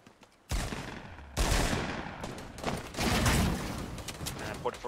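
Video game gunfire from Black Ops 4 or Fortnite, dense bursts of shots and rapid automatic fire that start suddenly and then run almost without a break, loud and close, with a voice talking over parts of it.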